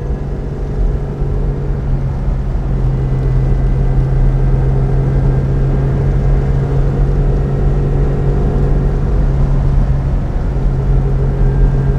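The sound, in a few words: 1959 Mercedes 300 d Adenauer limousine driving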